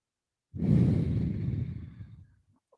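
One long, deep breath during hatha yoga practice, heard close and alone as a smooth, airy exhale that rises quickly and fades out over about two seconds.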